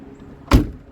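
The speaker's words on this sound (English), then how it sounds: "that's the way a door is supposed to sound when you close it" A single solid door of a 1971 Chevrolet Corvette Stingray coupe thuds shut nearby, one short, heavy slam against a quiet background.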